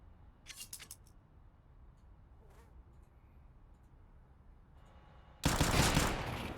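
Five-seveN pistol fire in Counter-Strike during a competitive match on Overpass: a few quick sharp shots early on, a lone shot a moment later, then a loud dense burst of gunfire near the end.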